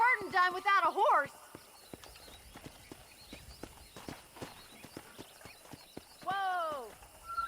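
Horse hooves clip-clop in a steady, fairly close walking rhythm on a cattle ranch, with a series of distinct knocks under voices that speak briefly at the start and the end.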